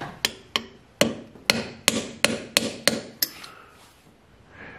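Hammer tapping a seal into a ZF5 transmission during reassembly: about ten sharp metallic taps, close and crisp, in an uneven rhythm over roughly three seconds, then quiet shop noise.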